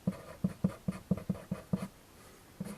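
A pen scratches on paper in quick, rhythmic strokes, about nine close taps in a burst, then a pause and one final stroke.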